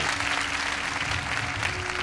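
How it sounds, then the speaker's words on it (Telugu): A congregation at a Telugu Christian sermon claps together for Jesus, a dense, even roar of many hands that carries steadily from start to finish with no voices over it. "Come on, give a good clap to Jesus."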